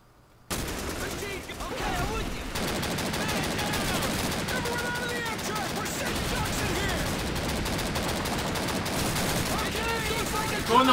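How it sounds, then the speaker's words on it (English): Sustained minigun fire rattles almost without pause in Call of Duty 2, a dense rapid stream of shots starting abruptly after a brief quiet moment and holding loud to the end. "Use the minigun on the ship!"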